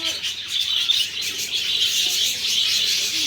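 Small birds chirp continuously at Indroda Nature Park in Gandhinagar, a dense, busy chorus of high twittering that stays steady and fairly loud throughout.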